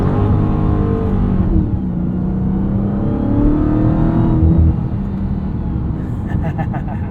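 A 2023 Dodge Charger Hellcat Widebody Jailbreak's supercharged engine roars and climbs in pitch as the car accelerates, heard loud from inside the cabin before easing off toward the end.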